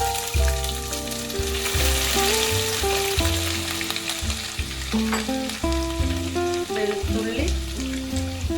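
Ginger hits hot oil with spluttered mustard seeds while a lime pickle is being made, a loud, close, dense sizzle with crackling pops, heard under steady background music.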